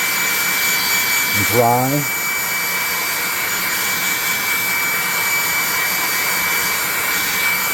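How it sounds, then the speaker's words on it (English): A hot air gun blows steadily onto crafted tabletop scatter rocks for a pond piece, a loud continuous whooshing roar that holds level from start to finish, with a brief spoken phrase near the beginning. "let's hit this with some hot air from our +2 hot air gun of burning"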